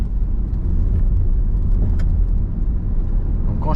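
Car engine accelerating steadily during a driving lesson, a continuous low rumble heard from inside the cabin, with faint rattles and a soft voice near the end.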